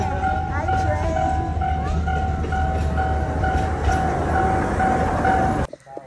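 A train in Alishan, Taiwan, rolls by close and loud, with a deep rumble, a steady whining tone and clacking wheels, then it cuts off abruptly; a voice speaks over it.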